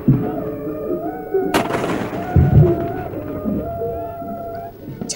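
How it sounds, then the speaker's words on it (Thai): A deep Thai royal 21-gun artillery salute by army and navy booms out, one loud sharp report followed by a rolling echo, with a sustained horn-like tone and distant voices beneath. "ทหารบกทหารเรือยิงปืนใหญ่เฉลิมพระเกียรติฝ่ายละ21นัด"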